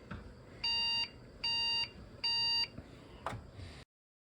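A Lenovo Legion T5 desktop PC with a dead motherboard gives three even electronic error beeps in a row, each about half a second long, followed by a short click, with a quiet room behind them.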